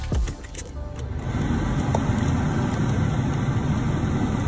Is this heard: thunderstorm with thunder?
no